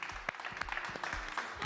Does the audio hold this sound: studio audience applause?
yes